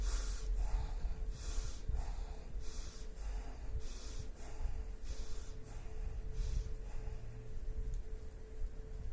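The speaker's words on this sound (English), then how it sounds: "Keep breathing." Guided breathing exercise: a series of about eight forceful, rhythmic nasal exhalations like short snorts, evenly spaced over a low steady background hum, close and moderately quiet with no talking.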